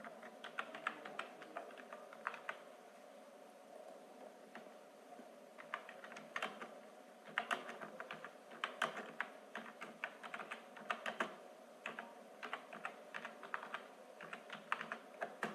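Someone types on a computer keyboard while writing a cover page in Microsoft Word, producing close, irregular bursts of light key clicks with short pauses between.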